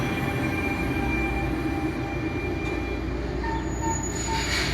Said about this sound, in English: now train number, I think this is 432 from Gladstone to Hoboken is going to be passing by as well